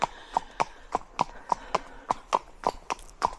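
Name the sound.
horse hooves clip-clopping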